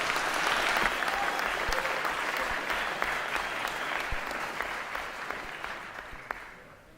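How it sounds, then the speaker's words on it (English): A security conference audience gives a warm round of applause for a first-time speaker, many hands clapping densely at first and then gradually thinning and fading out. "let's give him a OBTS round of applause."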